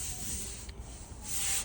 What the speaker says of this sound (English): I still need to do a little sanding in these areas